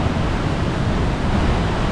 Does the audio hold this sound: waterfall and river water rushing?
yes